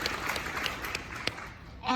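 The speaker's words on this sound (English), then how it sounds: "give them applause" Audience applause fills a room at a Disney family reunion expo benefiting Give Kids the World, a dense, steady patter of many hands with a few sharper claps, fairly close and sustained for the whole stretch.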